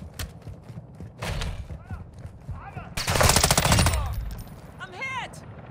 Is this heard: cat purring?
no